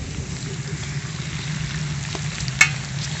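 Steady sizzling of marinade-soaked onions frying in a hot homemade saj pan, a continuous crackling hiss with one brief sharper pop near the end.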